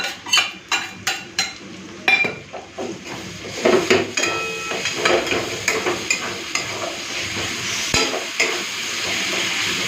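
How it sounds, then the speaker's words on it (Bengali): Ginger, garlic and dry red chilli paste frying with browned onions in a pan, a steady sizzle broken by sharp, rhythmic clacks of a spatula stirring and scraping, loud and close, with no voices. "পেঁয়াজের সাথে সব মশলাগুলো ভালো করে ভেজে নিয়েছি"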